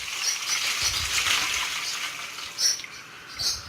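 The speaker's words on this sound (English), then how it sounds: "I'm just going to pour these through this strainer" Soaked sunflower seeds and water poured from a bowl through a strainer, a close splashing rush with a couple of louder surges, with no talking.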